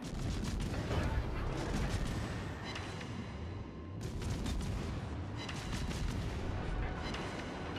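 Naval gunfire from a warship in World of Warships, heavy booming salvos and rumbling blasts layered into a dense, continuous roar of battle with distinct shots near the start and again around the middle.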